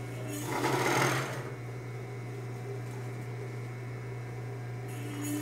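A sewing machine stitches bias binding onto a bra, whirring in a short close burst and then settling into a steady motor hum with a low drone underneath.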